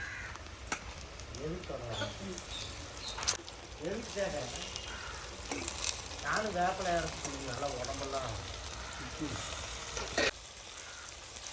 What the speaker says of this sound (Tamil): சிக்கனை போட்டு நல்லா பிரட்டிக்கலாம்.